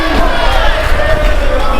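A wrestling crowd at an SPW show roars and cheers loudly as Trexxus comes in, a dense wall of shouting voices that runs without a break.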